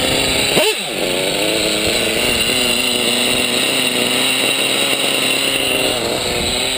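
A chainsaw engine, not yet warmed up, idles high and steady, a close, buzzing drone with a brief rev near the start, no voices.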